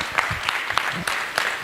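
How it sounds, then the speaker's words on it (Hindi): Audience at a Lahore poetry mushaira gives scattered, uneven claps, with a few sharp individual hand strikes and some voices mixed in. "भरपूर तालियां अहबाब"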